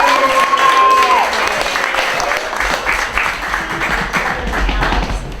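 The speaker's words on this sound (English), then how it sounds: "One more round of applause for Natalie." An audience at a magic camp performance show claps in a loose burst of applause that thins to scattered claps, with a brief high tone ringing out at the start.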